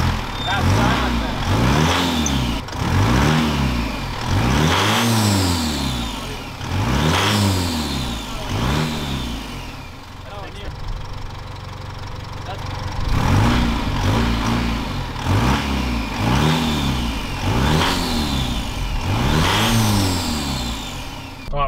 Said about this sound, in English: I'll rev it though. That sounds way better.